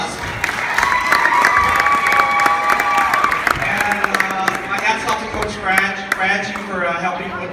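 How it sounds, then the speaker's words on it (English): An audience at a seventh-grade volleyball ceremony applauds the coach with dense, steady clapping and some cheering, loud and close, as voices and shouts rise over the clapping toward the end. "So let's give him a round of applause."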